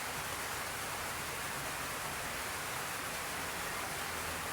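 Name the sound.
rain falling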